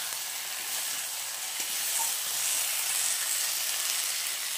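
Meat frying in a pan gives a loud, dense, steady sizzle throughout, with faint stirring movements underneath and no speech.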